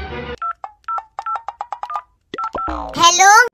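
A phone is dialed with a rapid run of about a dozen short, distinct keypad beeps, followed by a rising ringing or connecting tone, with a brief voice at the start.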